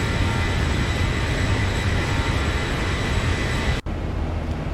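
A Boeing 737-800 in X-Plane 11 roars loudly as its jet engines spool up for takeoff. The broad rumble holds steady until an abrupt momentary cut near the end.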